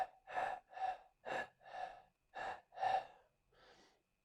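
Voice imitating the very short, shallow breathing of a COVID-19 patient: seven quick, faint gasping breaths in a steady rhythm, close and alone.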